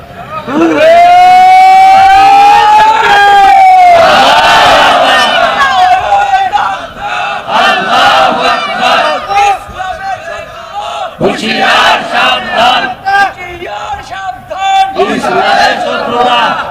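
A large crowd at a religious sermon gathering chants and shouts slogans in loud unison, with waves of rising cries, a voice leading the calls and the crowd roaring back in repeated bursts.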